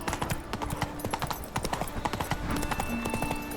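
Roach, Geralt's horse in The Witcher 3, gallops in a fast, steady run, with close, rhythmic hoofbeats clattering over a busy game soundscape.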